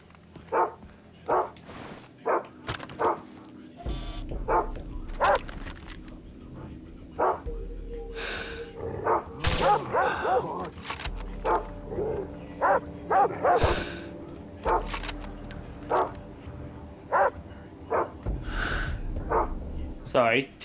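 Dogs barking at an enemy outpost in the video game Far Cry 3: repeated short barks and yips at a steady, uneven rhythm throughout, mid-distance, with a person talking over them.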